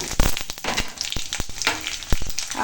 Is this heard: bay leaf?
yes